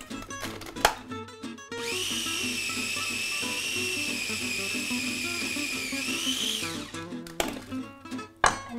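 A food processor whizzes a peanut butter truffle mixture in one steady, high-pitched whirring burst of about five seconds, with quieter kitchen clatter before and after.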